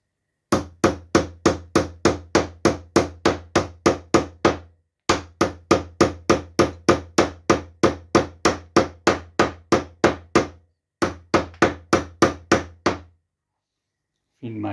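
A hammer drives nails into classic wooden beehive frames in three fast runs of sharp, evenly spaced knocks, close and loud, separated by short pauses.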